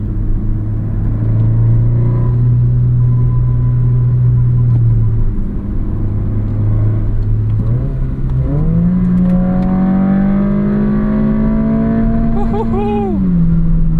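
A 2023 Honda Civic Si engine holds a steady drone, then climbs through the revs toward 7,000 RPM in a rising whine heard from inside the car, loud and continuous.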